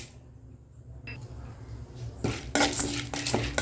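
Chana dal dropped into a pan of hot oil while making spicy mint chutney: quiet clinks of utensil on pan, then a louder rush of crackling and sizzling as the lentils hit the oil.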